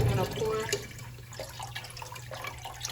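Water is poured into a pot for cooking seasoned crab legs, a continuous splashing pour with some drips, heard close with a voice talking alongside.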